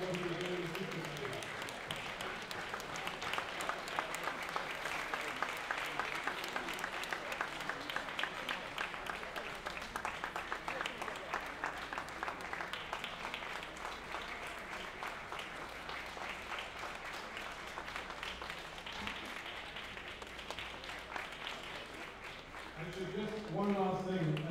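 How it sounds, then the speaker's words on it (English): Dense, steady applause from an event audience honouring former Haitian Prime Minister Laurent Lamothe at an award ceremony. It keeps up loud and unbroken for about twenty-five seconds, with murmured voices mixed in. "let us all give him a round of applause for what he's done for Haiti"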